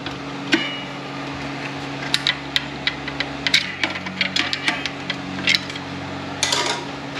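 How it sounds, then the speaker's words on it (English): A snap ring is levered into place with a screwdriver during a 4L60E transmission rebuild, giving a series of sharp metallic clicks and taps close by, spread irregularly over a faint steady hum. "I just start it at the bottom and just pop it up over with the screwdriver"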